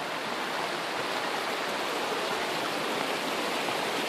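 River water rushes steadily at a river access point with built steps in New Mexico, a constant broadband wash with no pauses and no voices.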